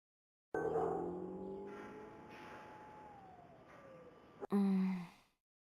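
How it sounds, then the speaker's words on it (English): A fire truck siren in the game Tokyo Psychodemic wails with a slow falling tone, moderately loud and steady, ending in an abrupt louder burst before cutting off. "Sounds from a fire truck."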